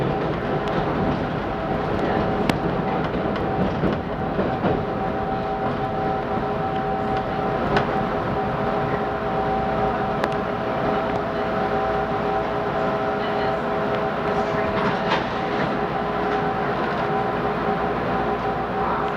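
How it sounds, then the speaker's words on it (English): Chicago elevated L Brown Line train heading to Kimball, a steady loud rumble with a humming tone throughout, heard from inside the car with no talk. "This is a Brown Line train to Kimball."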